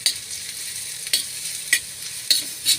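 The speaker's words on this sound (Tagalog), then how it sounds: "Halo-halo lang natin ito insan." Catfish adobo simmering in coconut milk is stirred in a pan, a soft sizzle running throughout with several distinct scraping stir strokes at irregular intervals, close and moderately loud, no talking.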